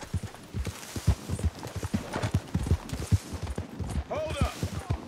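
Horse hooves clip-clop in a steady rhythm as a video game horse trots along, with some background game sounds and a brief voice mixed in.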